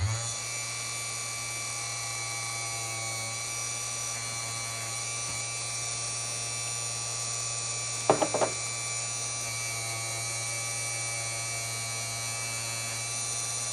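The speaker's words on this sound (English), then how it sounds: "I'm just going to lightly buff left to right" A small powered buffing tool hums steadily while lightly buffing a model car's asphalt racing tyre with coolant, with a brief scraping burst of contact roughly midway.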